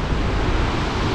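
Steady, loud roar of a fast river rushing near Sonamarg in Kashmir, a dense, unbroken wash of water noise heavy in low rumble, with no voices over it.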